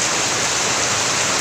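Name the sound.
heavy rain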